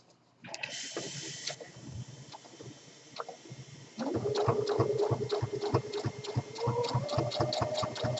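A sewing machine runs a standard 5/8 inch seam on men's corset vest fabric. Quiet handling noises come first, then a steady, close, rapid stitching rattle takes over for the second half.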